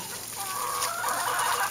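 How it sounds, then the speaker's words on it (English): A flock of laying hens clucks close by, a busy, steady chorus of low murmuring calls rising slightly toward the end, with no talk over it. "We are just so happy with these chickens."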